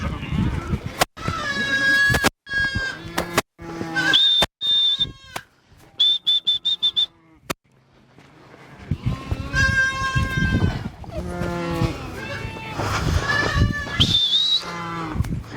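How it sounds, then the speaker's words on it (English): Goats and sheep bleat on a farm in a harsh African village, with loud, close, repeated calls coming in bursts and overlapping, separated by brief pauses. "Now we have goats."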